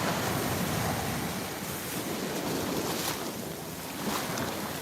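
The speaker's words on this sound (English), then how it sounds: "Just the sound of the waves breaking, it just makes me so happy." Ocean surf at a beach break rolls in as a steady, loud, hissing wash of breaking waves, with gusty wind noise on the microphone and no voices.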